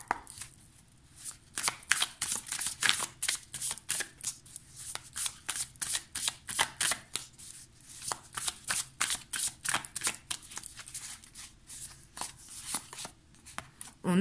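A deck of Muse Tarot cards is shuffled in a steady run of crisp, rapid riffling flutters that repeat close and clear for the whole stretch, with no talking.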